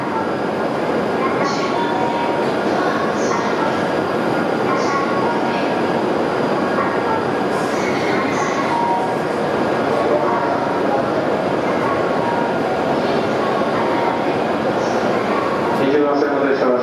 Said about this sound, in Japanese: 20番線の電車は車庫に入る回送列車です。